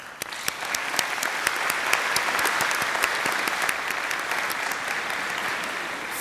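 Sustained audience applause at a 2018 summer commencement ceremony, a steady wash of many hands clapping from a large crowd, moderately loud and continuous without speech.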